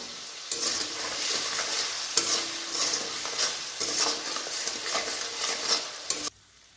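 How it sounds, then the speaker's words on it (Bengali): Spices with turmeric and salt stir-fried in a pan for bitter gourd and potato fish curry: close, rhythmic scraping strokes over a continuous sizzle that stops abruptly at the end. "দু থেকে 3 মিনিট ভালো করে মশলাগুলো কষিয়ে নেব"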